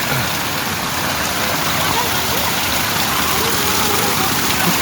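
Water gushes steadily from the 108 spouts at Muktinath Temple, a loud, dense, unbroken splashing roar close by, with voices partly buried in it.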